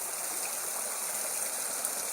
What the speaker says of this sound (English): Now these series of little rapids are marked as waterfalls.